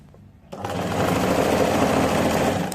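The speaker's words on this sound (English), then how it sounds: "You don't have to pull, just keep sewing." A sewing machine stitching a sleeve onto a garment, starting up after a brief pause and then running steadily at an even, fast whir, close and loud throughout.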